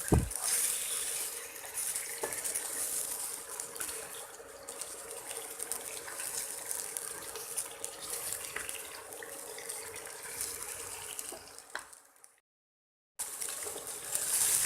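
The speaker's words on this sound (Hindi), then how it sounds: "और चिकन को प्याज के साथ अच्छी तरह से पहले मिक्स कर लेंगे और इसको फ्राई करेंगे 3 से 4 मिनट तक" Chicken and onions frying in a pan, a steady close sizzle and bubbling with occasional stirring, broken by a short silent gap near the end.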